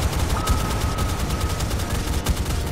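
Anti-aircraft guns in a naval battle video game fire in rapid continuous bursts, a dense rattling barrage that stays loud and near throughout.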